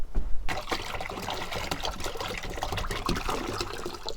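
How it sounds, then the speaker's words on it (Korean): Water is poured outdoors into a dish for stray cats, a continuous close trickle and splash that runs steadily for several seconds with no voices. "이렇게 물도 따라주고"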